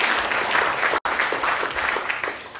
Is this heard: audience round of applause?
yes